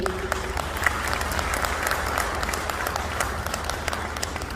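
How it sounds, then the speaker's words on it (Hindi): Loud applause from a network marketing seminar audience for Sunil ji, dense clapping that fills the whole stretch at a strong, steady level. "फटाफट जोरदार तालियां सुनील जी के लिए"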